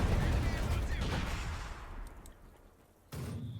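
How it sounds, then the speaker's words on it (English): Mortar shells pound away in a Company of Heroes 2 match, a dense run of booming impacts and gunfire that fades out and then returns with a fresh blast, under a commentator's voice. "Mortar, oof, laying into them, shot after shot."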